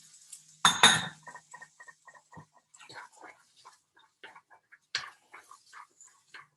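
Quiet, sparse clinks and scrapes come from a utensil stirring carrots in oil in a pan, with a couple of sharper knocks near the start.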